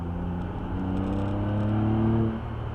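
A car accelerates along the road with a steady, loud engine drone whose pitch climbs over a few seconds, heard close and continuous without talk.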